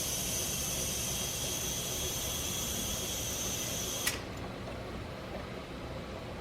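Pressurized air hisses steadily from leaks during a boost leak test on an Audi B5 S4 engine, a bright constant whoosh that cuts off abruptly with a click partway through, leaving faint low background noise.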